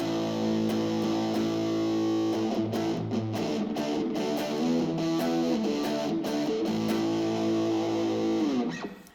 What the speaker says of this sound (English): It's a bright orange pedal that just says distortion on it